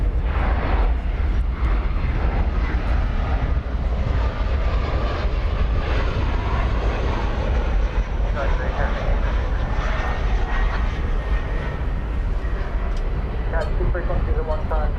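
A 1993-built Atlas Air jet at DFW Airport produces a loud, continuous engine roar and rumble, heavy and broadband, dominating the scene from start to finish.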